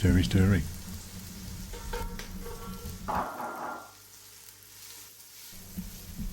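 Celery, onion and garlic frying in a pan with a steady sizzle and occasional stirring clatter, close by, with an overlapping voice near the start.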